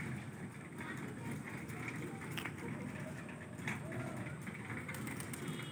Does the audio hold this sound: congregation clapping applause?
no